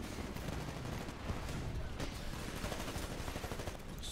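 Dense, continuous gunfire in the video game Titanfall, rapid automatic bursts and shots crackling without pause, fairly close and loud throughout.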